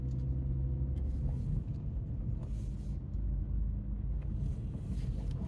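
Steady low rumble of a car's engine and road noise on a morning drive, heard from inside the vehicle, continuous and moderately loud with faint wind noise and no talking.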